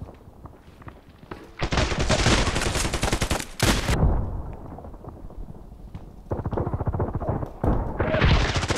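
Gunfire from an MP133 pump shotgun in the online shooter Contract Wars: sharp, loud bursts of shots in clustered volleys, separated by quieter gaps, with no talking.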